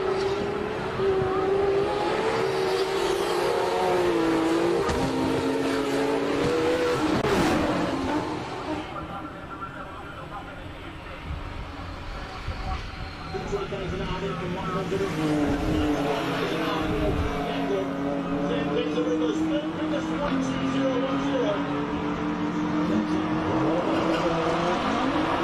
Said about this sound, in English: Let's listen to Farouk Dangle go up this hill.